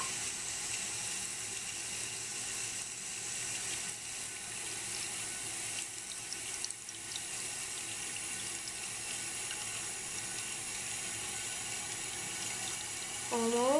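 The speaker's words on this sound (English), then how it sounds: "Kind of slow filling toilet." A 2000 Briggs Classic Vacuity toilet tank slowly refilling, a steady hissing rush of water running without a break, close and fairly loud, with a rising gurgle right at the end.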